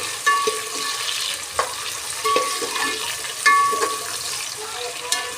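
Moong dal khichdi ingredients frying in a pan, with a steady low sizzle, occasional stirring scrapes and soft clinks over the full stretch, no voice heard.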